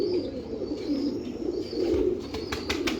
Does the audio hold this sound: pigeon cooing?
yes